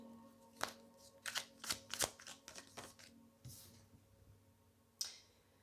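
Oracle cards being shuffled by hand, a series of sharp close riffles and snaps in quick bursts, then a pause and one last flick, fairly quiet with no talk.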